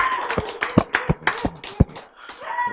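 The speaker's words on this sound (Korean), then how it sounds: "축하해 박수." A small church congregation gives a brief round of scattered hand claps during a sermon, uneven and close, with individual slaps standing out before fading.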